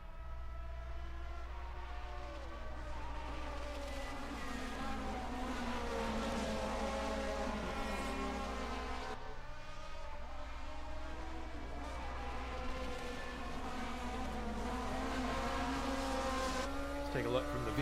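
A turbocharged-era touring car racing in the 1979 DRM Division 2 round at the Bergischer Löwe event, heard from onboard as a loud, steady engine roar that holds through the whole stretch, with a brief dip in the middle.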